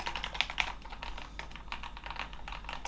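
Typing on a Keychron K8 Pro mechanical keyboard, a steady close run of crisp key clacks with a few sharper, louder strikes near the start, no voice over it.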